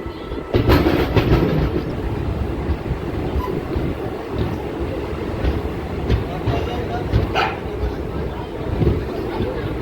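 A DEMU passenger train pulling out of Pendekallu junction, with a steady loud rumble of wheels and carriage noise throughout and faint clattering, while voices talk now and then over it.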